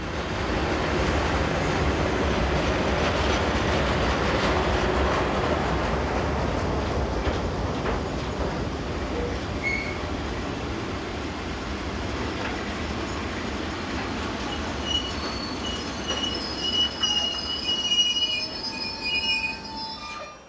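A freight train hauled by two locomotives on the BLS line in Switzerland rumbles steadily, its wheels squealing high and long as it rolls to a halt, with the grinding noise gradually thinning out near the end.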